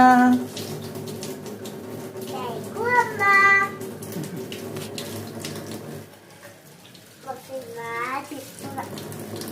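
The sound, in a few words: tap water running while washing dishes with soap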